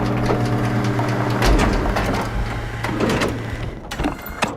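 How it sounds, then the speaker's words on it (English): A pilot seat activates in the sci-fi game SOMA, giving a mechanical whirring and grinding with clunks and rattles that builds and then settles. It is loud and close, with no voices. "Okay, I'll activate the seat."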